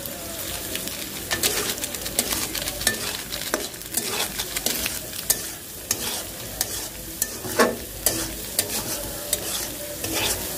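Egg and chili fry in a pan under constant stirring: a steady close sizzle runs throughout, punctuated by frequent sharp spatula scrapes and taps against the pan.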